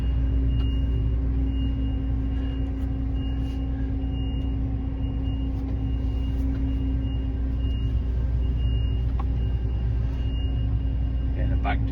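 A farm vehicle backing into the corner of a corn shed gives a steady, low engine rumble throughout, with faint intermittent beeps and small clanks on top.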